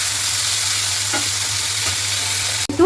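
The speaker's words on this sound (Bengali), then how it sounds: "এবার আলুটা হালকা হালকা ভাজা ভাজা হবে।" Potatoes fry in oil with mustard seeds and curry leaves for suji upma, a steady close sizzle broken by a couple of spoon scrapes and a sharp utensil clatter near the end.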